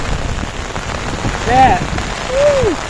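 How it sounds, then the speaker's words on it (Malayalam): Heavy monsoon rain pours steadily and loudly over open paddy fields at Kannoth Padam, Thrissur, Kerala, a dense continuous hiss, with a couple of brief faint whistling tones on top. "ഒരു രക്ഷയില്ലാത്ത മഴ."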